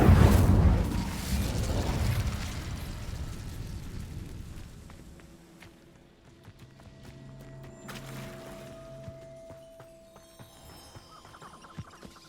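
A Hogwarts Legacy Incendio fire spell goes off with a loud burst and roaring whoosh that fades over several seconds, followed by quieter game ambience, soft clicks and a held tone.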